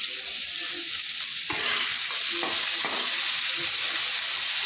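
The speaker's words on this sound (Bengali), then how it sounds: "একটু লবণ আর একটু হলুদ দিয়ে নাড়াচাড়া করবো" Amaranth greens stalks fry in a pan with salt and turmeric, a steady close sizzle broken by several scraping strokes of a spatula stirring them around.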